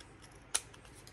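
A single crisp snip of scissors cutting off excess paper in a craft project, brief and close against a quiet background.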